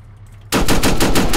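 Automatic gunfire in the video game Arma 3 starts abruptly after a quiet moment, a loud, rapid burst of evenly spaced shots with no talking.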